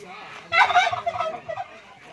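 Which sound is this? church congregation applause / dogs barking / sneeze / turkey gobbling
turkey gobbling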